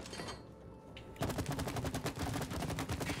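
Rapid automatic gunfire in the co-op video game It Takes Two, a dense, loud stream of shots beginning abruptly after a moment of game ambience and continuing steadily to the end.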